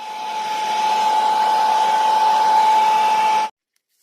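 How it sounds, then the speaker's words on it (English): A heat tool blows hot air over masking tape on a watercolor painting, a loud, steady whirring hiss with a constant high whine that runs for about three and a half seconds, then cuts off abruptly. "I'm going to heat this up, heat the masking tape up, and then peel it off"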